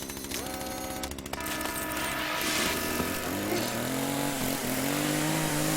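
Chainsaw in the video game The Culling, a loud, continuous buzzing drone that rises in pitch and stays steady and close, with no talk over it.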